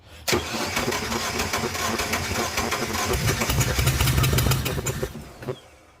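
A twin-turbo 2.0L Subaru Legacy with a rich-running P0172 code and a shaky idle cranks during a cylinder compression test. The starter churns in a steady, loud, close rhythm for about five seconds and then stops, with no talking.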